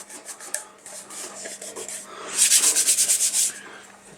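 A vinyl decal being rubbed onto a surface with quick scratchy strokes, scattered and light at first, then a rapid, louder burst of about a dozen rubs before it trails off.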